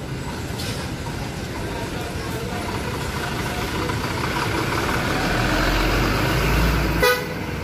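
A Jaya Utama bus pulls out of a busy terminal departure shelter, its horn giving a short honk near the end over a steady rumble of engines and crowd noise.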